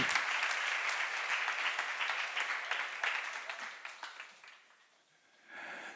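A church congregation at a seminar claps together in a dense burst that gradually thins and fades, with a brief murmur of voices near the end.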